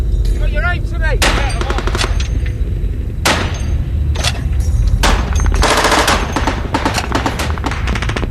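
Gunfire and artillery during a battle involving British Marines against the Taliban, with loud rapid bursts of machine-gun fire and sharp single shots cracking repeatedly, and heavy booms amid faint voices.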